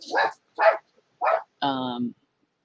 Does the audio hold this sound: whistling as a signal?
no